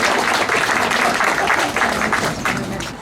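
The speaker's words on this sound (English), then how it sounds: "can we have a round of applause for Claire" A crowd at a school opening claps for Claire, dense steady applause that stays loud throughout and tapers slightly at the end.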